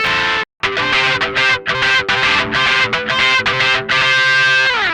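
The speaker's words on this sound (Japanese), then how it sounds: "歪んだカッティングのサウンドとかにですね、このトーン上げ目は使えるんじゃないかなと思います" An electric guitar played through a BOSS DS-1 distortion pedal, tone turned up and lows cut, strums loud, bright, crunchy cutting rhythms in choppy bursts with short gaps, ending in a sustained ringing chord.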